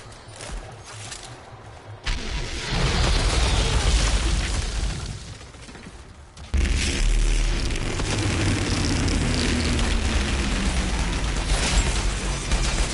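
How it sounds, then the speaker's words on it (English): Heavy booming explosions in a PS4 video game, a deep rumbling blast that surges in twice and sustains loudly for several seconds with layered debris and effects noise. "And when I do, that explosion will detonate the other guys around them"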